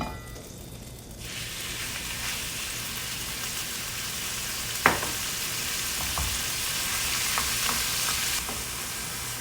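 Small pieces of beef fry in lard, a steady broadband sizzle that jumps up after the first second and holds, with a sharp clink partway through and light scraping taps near the end.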